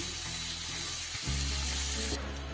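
Shredded cabbage is tipped into a pan where spiced potatoes and green peas are frying, bringing a steady close sizzle that jumps louder partway through with a soft thud as the leaves land.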